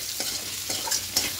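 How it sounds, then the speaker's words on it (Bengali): Bitter gourd and potato being stirred in a hot pan with turmeric and salt, a spatula scraping in quick strokes over a steady sizzle, close and without speech. "খুব ভালো করে মিশিয়ে নেব।"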